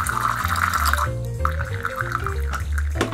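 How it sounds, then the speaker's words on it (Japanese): Hot water runs from the spout of a De'Longhi Magnifica S coffee machine, a close, steady trickle over a low, wavering pump hum that continues throughout. "こちらのレバーは回していただくとお湯が出ます"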